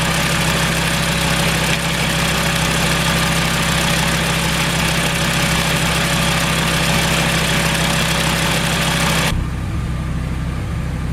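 A vehicle engine idles steadily and loudly at close range, a constant rumbling drone with a faint hum on top that drops away sharply near the end, leaving a quieter low rumble.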